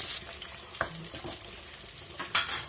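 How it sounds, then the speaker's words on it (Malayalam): Green chillies and curry leaves sizzle in hot oil for a Pathanamthitta-style fish curry, a soft steady crackle punctuated by a few spoon scrapes and brighter bursts, close and fairly quiet. "പച്ചമുളക് ഇട്ടു. കറിവേപ്പില ഇട്ടു. ഇളക്കും."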